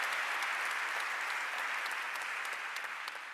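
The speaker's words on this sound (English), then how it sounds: "So give them a round of applause" An audience at an evening community program applauds young people for their civic service, a steady, continuous roar of clapping heard at a moderate distance, fading slightly toward the end.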